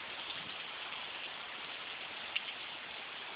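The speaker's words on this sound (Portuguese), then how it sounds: "Tá precisando uma chuva dessa, viu?" Steady rain hisses evenly on surfaces nearby, a soft continuous patter with no voices and one small distinct drip.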